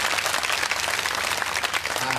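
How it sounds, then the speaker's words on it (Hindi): A crowd at a Bhagwat katha gathering in Tughlakabad, Delhi claps loudly and continuously in dense, steady applause throughout. "जोर से ताली हो जाए"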